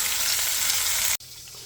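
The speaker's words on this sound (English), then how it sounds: "And we're just going to brown them." Chicken pieces for a one-pot chicken and rice dish brown in a hot pot, giving a loud, steady sizzle that cuts off sharply near the end and returns slightly quieter.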